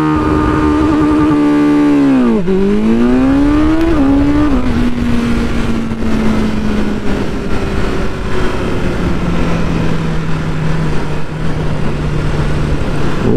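A 2021 BMW S1000R motorcycle launches hard under launch control, its engine revving high, dipping on the first shift, then climbing through further gear changes as it pulls away, loud and close with no talk.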